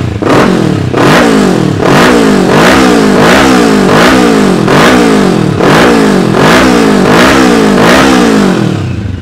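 A used 2018 Benelli 600 superbike revs hard and repeatedly, its engine rising and falling in about ten loud, evenly spaced bursts with a raspy aftermarket exhaust note, close up and continuous with no talking.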